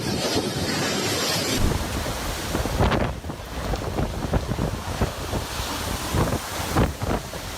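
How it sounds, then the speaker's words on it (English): Strong storm wind roars and gusts through a parking lot in China, buffeting the microphone with loud bursts of rushing noise throughout. "a storm swept through a local parking lot in China"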